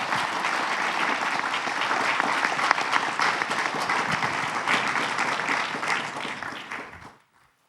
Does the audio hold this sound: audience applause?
yes